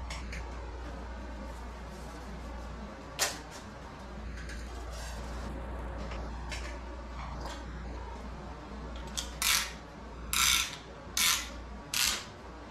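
A ratchet tightens a piston ring compressor sleeve around the pistons of an LS-style V8 and gives a few sharp, close clicks. They start with one near the beginning, then come in a quick cluster of four or five toward the end over low background noise.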